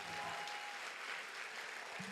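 Congregation applauding during a church sermon, steady dense clapping filling the whole stretch at moderate distance, with a faint tone and a brief low voice near the end.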